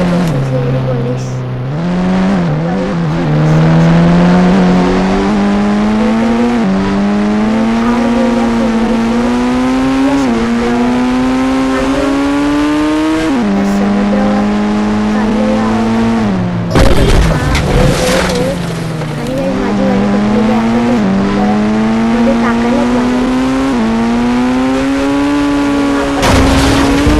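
A car engine in a police-chase video game revs and drives loudly for a long stretch, the engine tone climbing through repeated gear shifts with a brief crash or splash burst midway.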